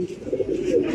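Pomeranian pigeons at a loft give a brief, soft, continuous low coo, close by and alone.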